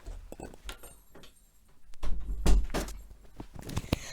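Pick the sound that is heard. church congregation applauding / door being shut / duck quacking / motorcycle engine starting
door being shut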